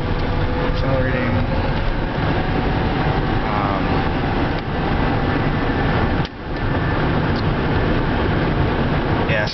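Continuous broadband road and drivetrain roar from inside an electric-converted car under test, accelerating in fourth gear at around 50 mph, a steady loud hum with brief dips, no clear pitch changes.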